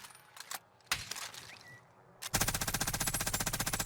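SMG gunfire in Call of Duty Warzone on PC: after a few scattered sharp shots, a loud, rapid, steady burst of automatic fire runs continuously to the end.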